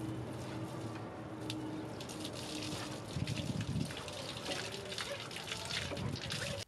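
Water carrying scale trickles and gushes steadily from the open drain tap of a solar water heater tank, a continuous splashing flow with some clattering, moderately close.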